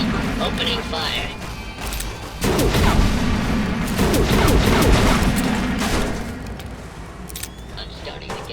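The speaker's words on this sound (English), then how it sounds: "You just made my day. Opening fire." Sustained gunfire from a firefight in modded Fallout: New Vegas, loud rapid bursts and crashing impacts forming a dense, continuous barrage with brief lulls, alongside game voices.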